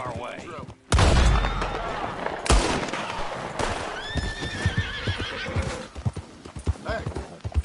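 A horse in a video game, with sharp whinnies and neighs mixed into loud bursts of gunfire, then a quick run of hooves clip-clopping close up, all part of a busy game soundscape.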